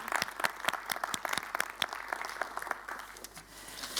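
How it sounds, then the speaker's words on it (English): Scattered, moderately sized applause from a conference audience greeting a standing panel, individual claps distinct and fairly close, thinning slightly toward the end. "I would like to have an applause for them"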